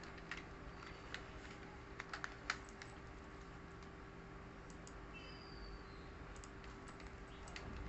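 Typing on a computer keyboard while entering data in an Excel spreadsheet: faint, sparse keystroke clicks in short clusters over a steady low electrical hum, quiet and a little distant.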